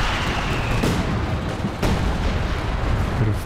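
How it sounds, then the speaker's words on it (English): M1 mortar fire in Company of Heroes 2, loud booming reports from the World War II strategy game, with two sharp blasts standing out over a dense, continuous rumble of battle noise. "Looks like Sam has picked up an M1 mortar."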